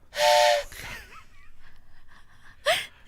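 An old wooden toy train whistle gives one loud, breathy blast at the start and a shorter toot near the end, with quieter vocal sounds in between.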